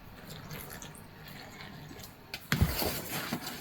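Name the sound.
water added from a tap to baking powder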